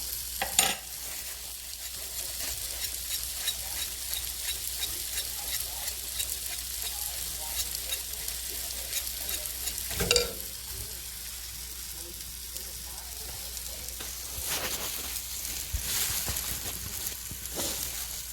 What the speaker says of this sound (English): I'm going to add our plant-based butter